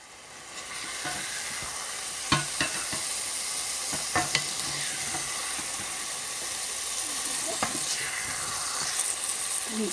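Pumpkin vegetables cook in a pan on a low flame, a steady gentle sizzle and hiss with a few sparse stirring knocks, quiet and unbroken by talk.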